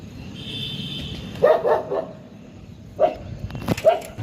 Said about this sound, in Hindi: नीचे ये सीवर लाइन का काम करने जो लोग आए हो ना, उनको देख के सीरो भौंक रहा है